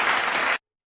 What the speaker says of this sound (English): I forgot that we can add applause.